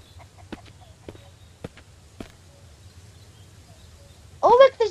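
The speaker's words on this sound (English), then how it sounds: "Oh, look, there's a chicken." A chicken in the survival game Mist Survival clucks near the end, a short burst of loud, close squawking after scattered soft footsteps and clicks over a low ambient rumble.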